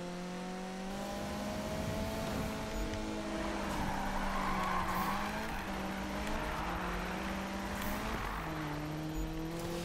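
Mazda Miata racing in Need for Speed 2016, a steady engine drone with shifting revs and gear changes, tire noise swelling midway, loud and continuous with no talk.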